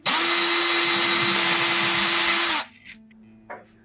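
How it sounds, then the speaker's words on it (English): A power drill with a 5/8 inch wood bit whines loudly and steadily for a few seconds boring a hole in wood, then stops, followed by a couple of faint clunks. "we're going to drill our hole with this 5/8 inch wood bit"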